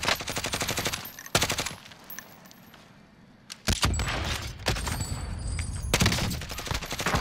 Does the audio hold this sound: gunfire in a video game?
yes